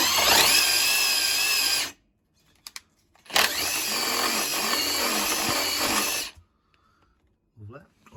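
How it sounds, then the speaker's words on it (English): A power drill turns a 15mm pipe-cleaning bit inside copper pipe in two loud, steady bursts of whirring and scraping, each about three seconds long. A few brief knocks fall between the bursts. "I've got these 15mm pipe cleaner, what do you call them, drill bits"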